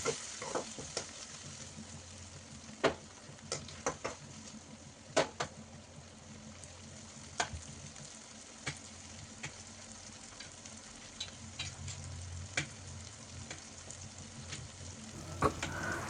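Tomatoes fry and soften in hot oil for an egg and potato curry, giving a steady low sizzle with scattered sharp crackles and spoon clicks throughout, and no talking.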